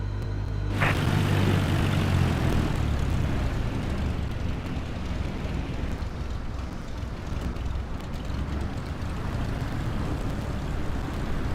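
Cessna 172 engine while taxiing in Microsoft Flight Simulator 2020: a steady, droning piston-engine hum with a whooshing, broadband rumble that holds a constant level throughout, no speech over it.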